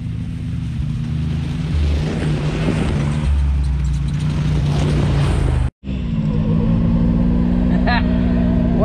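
A 2021 Can-Am X3 X RC Turbo RR UTV drives on trails, its turbocharged engine droning steadily with low harmonic hum and rising whistle, loud and close inside the cabin, briefly cutting out then resuming.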